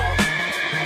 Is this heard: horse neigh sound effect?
yes